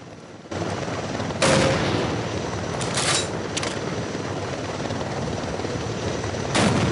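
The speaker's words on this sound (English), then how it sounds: "that chopper is doing the same thing the Hiku variant does" Helicopter in the Half-Life Delta Particles mod: a loud, continuous rotor and engine roar fills the scene, broken by a few short bursts of gunfire, with no talk.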